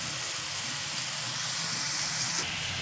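Onion and tomato fry in plenty of oil in a pan for a dry fish fry dish. The hiss is loud, close and continuous and grows slightly brighter near the end.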